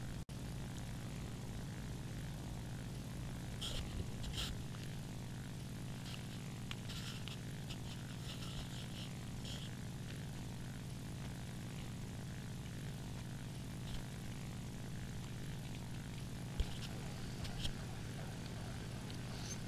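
A propeller-driven aircraft engine in the War Thunder video game drones steadily and evenly throughout, faint and unbroken, with no clear speech above it.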